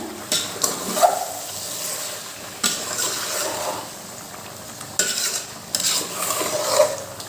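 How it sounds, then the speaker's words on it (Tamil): Chicken biryani masala with added salt is stirred in a pot, giving scraping spoon strokes against the metal in several bursts over a soft sizzle, close and clear with no talking. "இப்போ உப்பு தேவையான அளவு சேர்த்துக்கலாம். கிளறி விட்டுக்கோங்க."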